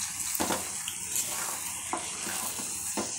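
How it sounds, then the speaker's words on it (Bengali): Water from a rinsed bowl goes into a pan of frying fig and potato curry, giving a steady sizzle with a few louder stirring scrapes throughout. "সেই বাটিটা ধুয়ে আমি এই এক বাটি জল এর মধ্যে অ্যাড করে দিলাম।"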